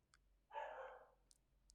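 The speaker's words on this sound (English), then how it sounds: "That's my dog, Barney, barking" A single dog bark rings out clearly indoors, a short sharp bow-wow followed by a few faint clicks.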